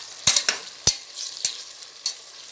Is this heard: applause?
no